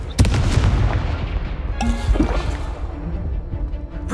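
The Confringo fire-blast spell in Hogwarts Legacy: a loud booming burst opens the sequence and another explosive hit lands midway amid dueling clatter and whooshes, with brief voices between.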